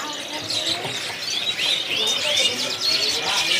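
Canaries sing at a bird kiosk in a market, bright high chirps and trills coming in quick bursts over a busy background of other birds and murmuring people.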